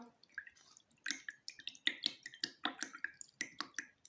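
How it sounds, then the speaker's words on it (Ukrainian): A paintbrush is rinsed in a jar of water during a children's painting lesson, making a quick run of close, wet clinks and splashy taps with a steady, rhythmic swishing pattern and no talking. "Тепер треба вимити пензлика,"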